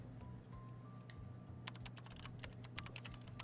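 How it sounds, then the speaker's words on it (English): Computer keyboard typing in the visual novel game Chaos;Child: a rapid run of light key clicks over a steady low background hum. "She learned how to tell from the sounds on the keyboard."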